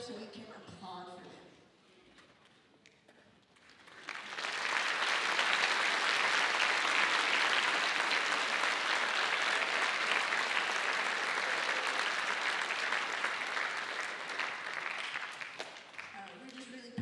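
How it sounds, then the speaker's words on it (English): An audience at a school Christmas concert applauds honor band students, a large, sustained wave of clapping that starts after a few seconds and runs about twelve seconds, with some talk heard before and after it. "please stand up so we can applaud for them"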